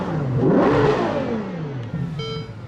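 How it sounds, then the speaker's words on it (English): A Ferrari 812 GTS naturally aspirated front mid-mounted V12 revs hard, its pitch climbing fast to a loud scream and then falling away, followed by a short blip of renewed revving. "Nothing builds revs like a Ferrari V12."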